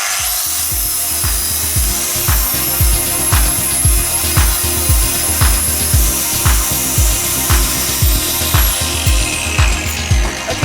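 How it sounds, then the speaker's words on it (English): A power tool with a flat disc cleans steel ahead of welding on a forge build, grinding loudly and steadily up close with a regular rasping pulse from back-and-forth passes, and no voices. "I'm just gonna clean all this steel ready with a flat disc, ready for welding"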